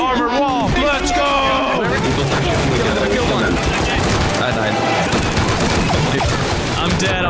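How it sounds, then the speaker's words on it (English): Explosive ammo fired against a base wall during a Rust raid: dense, loud crackling shots and impacts pound without letup, with excited voices talking over the chaos throughout. "I was shooting the explosive ammo against the wall."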